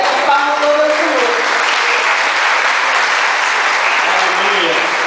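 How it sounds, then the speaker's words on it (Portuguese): A church congregation claps in sustained, dense applause that fills the space loudly for several seconds, with voices calling out and talking faintly underneath. "As palmas todas ao Senhor."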